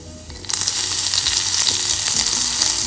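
Curry leaves hit hot oil with curry powder and burst into a loud, sudden sizzle that keeps crackling steadily, close and alone with no talking.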